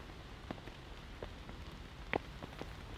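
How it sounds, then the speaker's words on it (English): Heavy rain falling on a camp, a faint steady patter with scattered sharper drops tapping close by on a surface, and no one speaking. "But this rain's not going anywhere today."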